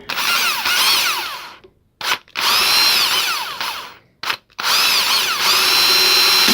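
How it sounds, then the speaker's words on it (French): A power drill runs in several bursts, stopping and restarting between them, its high whine rising and falling as it bores a hole in the build of a small homemade wood stove. "Je perce un autre trou là."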